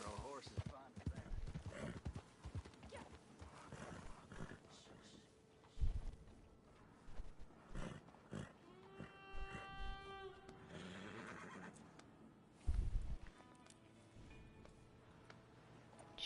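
Horse hooves clopping and occasional neighing in the Red Dead video game, with a Bay Turcoman horse mentioned, mixed under game music and ambient sounds, with scattered louder hoof thuds and some talking.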